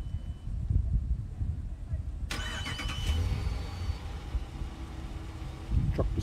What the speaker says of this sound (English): Truck beside me is pulling up, as you can see.